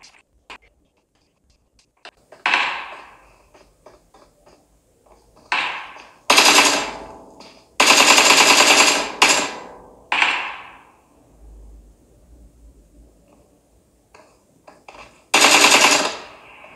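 Gunfire in the mobile battle royale game PUBG played on a Samsung S23 Plus, with loud bursts of rapid automatic shots separated by silent gaps and a few single shots in between.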